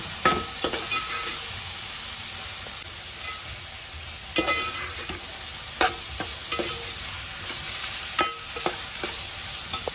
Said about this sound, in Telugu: కొద్ది కారం, కొద్దిగా అల్లం పేస్ట్ ఇవన్నీ వేసుకొని ఇంకా ఫ్రై అవునాయి